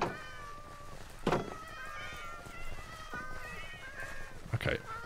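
Several house cats meow in a home, a series of drawn-out meows repeating across the moment, fairly close, with a few thumps and faint background sounds.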